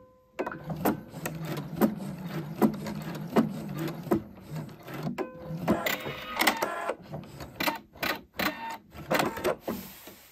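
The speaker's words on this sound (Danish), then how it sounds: "Men jeg kører simpelthen bare en lille syning herned." A sewing machine stitches elastic into the waistband of a circular skirt, running in short, close, uneven bursts with brief pauses between the runs of stitching.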